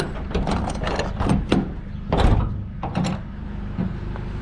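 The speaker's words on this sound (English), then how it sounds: "I'll get these doors open, ready for this washing machine to go in." Rear doors of a big blue Mercedes Sprinter van being opened during street scrap collection, several rattling, clunking latch and hinge clicks over steady outdoor background noise, with no talking.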